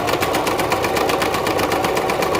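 A sewing machine top stitches an eighth-inch line along the folded fabric edges of a romper, running at a steady, even pace with a rapid, continuous mechanical chatter, close and moderately loud.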